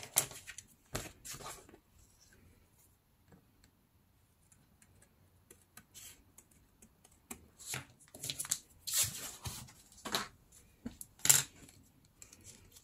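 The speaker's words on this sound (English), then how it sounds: "I'm gonna fussy cut out around the oval" Small scissors fussy-cut paper around an oval shape for an envelope accordion journal, giving sparse, close snips and crisp clicks in irregular bursts separated by quiet pauses, with no talking.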